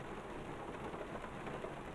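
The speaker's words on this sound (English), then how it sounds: "it's raining" Steady rain in American Truck Simulator, a dense, even hiss of falling drops filling the scene at a constant level, with no talk over it.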